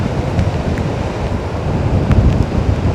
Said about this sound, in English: There's a big swell coming in now.